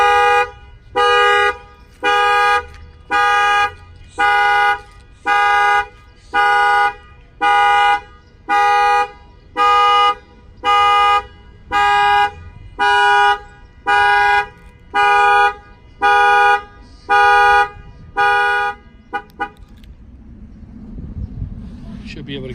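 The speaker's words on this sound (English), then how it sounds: "the alarm will fire off" A Toyota Tundra alarm sounds its horn in a long run of regular, evenly spaced loud honks, close by. About eighteen blasts play before it stops and low rumbling background noise takes over.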